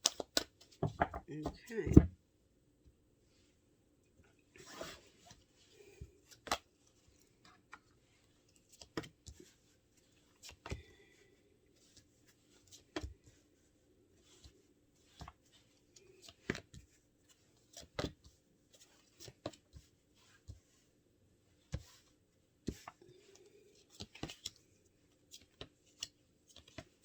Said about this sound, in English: I'm going to read these cards on the table as I shuffle for your clarifiers